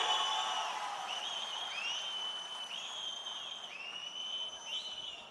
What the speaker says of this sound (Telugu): మీకందరికీ ఆమోదయోగ్యమైతే గట్టిగా చప్పట్లు కొట్టి మీరు కూడా ఆమోదించండి